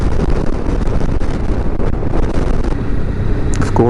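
Steady broadband roar of a 2024 BMW K1600GT motorcycle cruising at 75 in sixth gear, engine drone blended with heavy wind rush, continuous and loud throughout with no talk.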